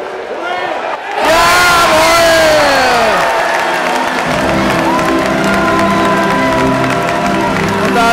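A football stadium crowd bursts into loud cheering and whooping after a penalty goal at a Sturm Graz vs. SV Ried home match, rising sharply after a quiet second and staying at full roar with shouts throughout.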